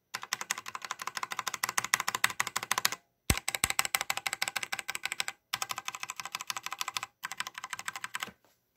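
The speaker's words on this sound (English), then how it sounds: "That's me pressing my WASD and D, and this is my space bar." Rapid, close typing on a new mechanical keyboard, including WASD keys and the space bar, in dense bursts of keystrokes separated by brief pauses and a sharp single thump. The room sound is dry, with no talking.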